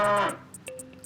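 Cows at sea, being lassoed and pulled around a headland by a boat: a near, drawn-out bovine moo with clear tonal harmonics that fades, with faint watery rustle and soft ticks behind it.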